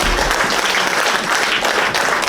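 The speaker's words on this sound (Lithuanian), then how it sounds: "Paplokim, mėlėjai, palydėkim plojimai šitą nuostabų ansamblį" A hall audience applauds a singing ensemble, a loud, dense and steady wash of clapping from many hands that keeps going without a break.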